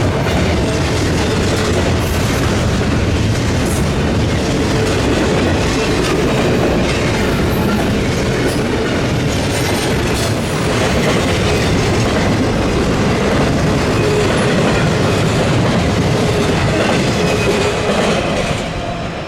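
A long freight train rolls steadily past close by on a steep grade at Otis Hill, Indiana, wheels clattering rhythmically over rail joints with a continuous heavy rumble and no voices.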